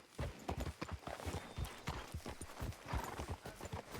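Horse hooves clip-clopping in the Red Dead Redemption 2 video game, a quick, steady stream of hoof beats at close range, soft in level and with no talk over it.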